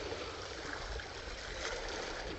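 Steady broadband wash of ocean surf rolling onto a beach, continuous and fairly loud with no distinct breaks between waves, alone without voices.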